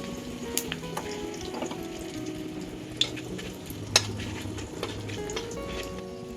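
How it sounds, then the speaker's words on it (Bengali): Five-spice, bay leaf and dried chilli frying in oil for a vegetarian taro-leaf dish: a quiet, crackling sizzle with occasional sharp clinks of a utensil against the pan. "পরিমাণ মতন তেল, 5 ফোড়ন, তেজপাতা আর দিলাম শুকনো লঙ্কা।"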